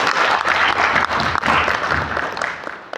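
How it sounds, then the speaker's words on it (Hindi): Loud, close applause from a seated audience at a business training seminar, a dense burst of clapping that swells, dips briefly and then tapers off toward the end. "एक बार शानदार ताली होनी चाहिए प्लान के लिए।"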